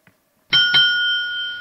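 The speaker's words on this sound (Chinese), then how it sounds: "会有多声铃响提示" A debate timer bell at a Chinese-language international debate competition signals that time is up: two bright chimes struck in quick succession, then a clear ringing tone that slowly fades, heard alone in a quiet room.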